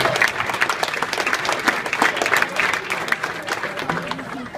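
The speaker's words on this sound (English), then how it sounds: "So give them a round of applause because they've helped me a lot." A crowd at a youth travel basketball banquet bursts into close, dense applause with sharp individual claps that stay steady throughout.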